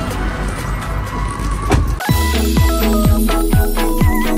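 Toyota HiAce van at a dealership during an inspection, an engine running steadily, then from midway a regular series of sharp repeating clicks or beeps over the hum, close and fairly loud.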